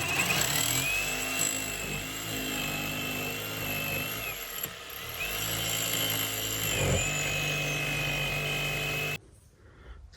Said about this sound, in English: The stinking jigsaw cut right through it.